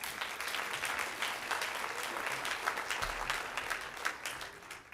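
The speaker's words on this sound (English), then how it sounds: "Please give them one more round of applause." Audience at a high school winter sports banquet giving a sustained round of applause, steady dense clapping that fills the room at moderate distance.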